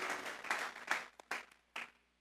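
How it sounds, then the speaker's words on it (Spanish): A church congregation claps as an offering of praise to God, broken bursts of applause rising and fading into a few separate, sharper clap groups near the end, moderately faint and alone. "Vamos a regalarle ofrenda de palmas al Dios de la gloria."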